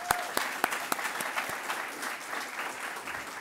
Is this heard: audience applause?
yes